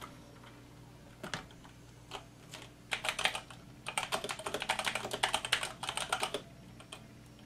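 Rapid clicky typing on a computer keyboard set on an angled stand, starting with a few taps then settling into steady bursts of keystrokes, close by.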